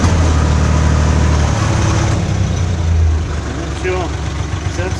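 A tractor engine idles close by, a steady low rumble that dips slightly as the machine strains to lift a heavy load of cement bags, with a person speaking over it.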